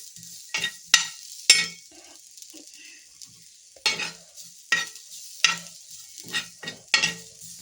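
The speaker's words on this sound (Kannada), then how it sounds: "ಇವಾಗ ಸ್ವಲ್ಪ ಕಾಯಿ ಹಾಕಿದ್ದೀನಿ, ಕಾಯಿನ ಸ್ವಲ್ಪ ಫ್ರೈ ಮಾಡ್ಕೊಳ್ಳೋಣ" Grated coconut with turmeric frying in a pan for mutton sukka, a soft continuous sizzle broken by repeated sharp scrapes and clinks of stirring at an irregular rhythm.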